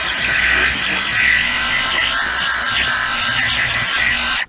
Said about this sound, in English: as a single action buffer, and DeWalt makes a fabulous single action